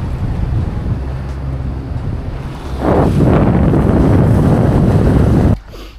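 Strong wind buffeting the microphone over choppy waves around a sailing catamaran heading into port, a loud, steady roar of surf and gusts that cuts off abruptly near the end.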